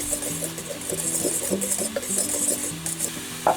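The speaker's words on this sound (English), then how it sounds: "We'll just whisk this all together." Baking powder and salt are whisked together in a bowl, giving a soft, rhythmic scratchy rustle close up over steady background music.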